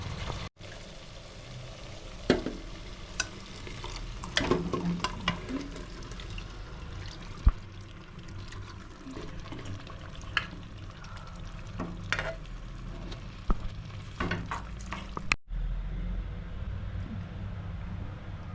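Kerala sadya-style sambar simmering in a pot as water is added and stirred, with a steady bubbling sizzle and scattered clinks and scrapes of the spoon, fairly quiet and close, no talking.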